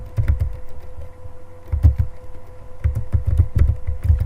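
Typing on a computer keyboard while entering text in Microsoft Word, loud close-up key presses in quick irregular bursts with brief pauses, no voices.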